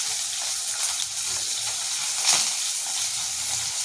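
Potatoes frying in a pan for a home-cooked fish curry, giving a steady, close sizzling hiss that holds evenly throughout with no talking.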